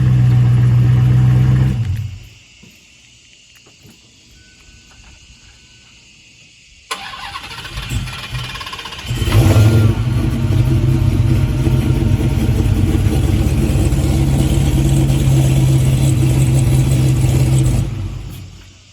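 A car engine with mufflers and resonators idles loudly, cuts to near quiet, then starts up again and revs to a sustained, deep roar before tapering off.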